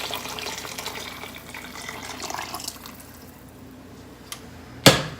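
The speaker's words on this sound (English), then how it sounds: "pour all the delicious broth that the chicken made" Chicken broth pours and splashes steadily into a Dutch oven, tapering off, followed by a sharp clink near the end.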